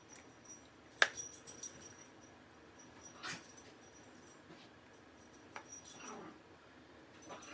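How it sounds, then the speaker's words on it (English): Dogs fuss faintly in the background of a quiet indoor room, with a few soft whimpers and scattered clinks and taps, all low and distant. "You can hear my dogs in the background being naughty."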